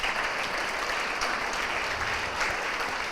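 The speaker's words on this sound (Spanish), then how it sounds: "Dale un aplauso al Señor." Church congregation applauding, steady dense clapping from many hands, moderately loud and continuous throughout.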